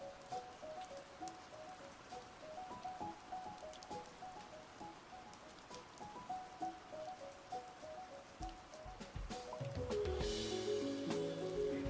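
Steady rain ambience patters through a tabletop RPG session, with a soft wash of drops and a rising, fuller downpour near the end, no voices heard.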